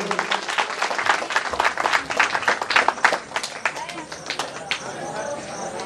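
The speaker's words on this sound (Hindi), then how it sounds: "जोरदार ताली स्वागत होना चाहिए" Brisk, uneven clapping from a crowd at a 2022 jasgeet singing competition prize ceremony, loud at first, then thinning to scattered claps.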